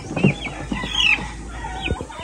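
A young, fast-growing chicken clucks a few times close by, short throaty notes scattered among other faint bird chirps in a backyard setting.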